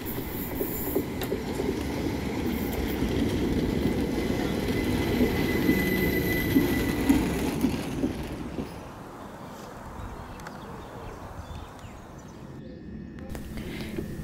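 Continuous rumble and rattle of a moving train to Swanley in Kent, heard from on board, loud for most of the stretch before easing into a quieter rolling hum.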